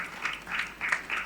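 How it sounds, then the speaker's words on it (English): Audience applause at a regional university quiz competition, a soft, steady patter of clapping at moderate distance, swelling in brief waves across the hall. "Round of applause for team F."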